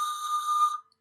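Soft, sustained pan flute tone played pianissimo, a single steady breathy note with bright overtones that holds for most of a second before fading out, heard alone.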